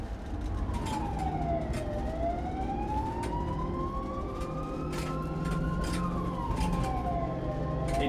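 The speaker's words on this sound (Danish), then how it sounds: "Skal vi prøve med noget sirene?" An emergency vehicle siren wails in long rising and falling sweeps, loud and continuous for the whole stretch over steady traffic rumble.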